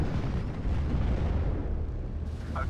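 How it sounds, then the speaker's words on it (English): Heavy artillery fire in the World War II strategy game Steel Division: Normandy 44 rumbles as a continuous, loud, low wash of distant explosions and booms, with no clear break between blasts. "There's just so much artillery that we have to deal with here."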